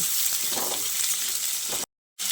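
Cut potatoes fry in hot oil in a pan, giving a steady, close hiss and crackle that runs evenly until a brief silent break, then resumes.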